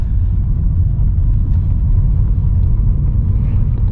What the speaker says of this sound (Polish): Tak to wygląda, samochody wjeżdżają do góry